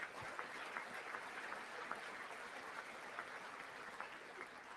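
Crowd applause at a State of the Union address, a dense, even patter of many hands clapping steadily, somewhat distant and moderate in level, with no voices over it.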